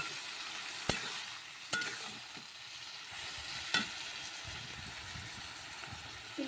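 Mustard paste fries in a pan while being stirred, a low steady sizzle broken by a few sharp spoon knocks against the metal, close and fairly quiet with no talking.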